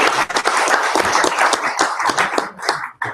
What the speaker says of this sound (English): So round of applause for Entrepreneur Simplified.